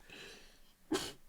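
A single short sneeze bursts out after a breathy inhale, close and moderately loud, in an indoor conversation setting.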